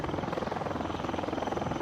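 Military helicopter flying during an NCC rally in Delhi, a steady loud rotor chop with a rhythmic pulsing drone that continues throughout, no voices.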